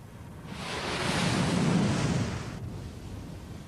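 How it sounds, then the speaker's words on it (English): Petrol is poured onto an open fire in a demonstration and ignites. A broad roaring whoosh swells over about two seconds and then dies away, loud and close, with no voices over it. "He's pouring petrol onto the fire."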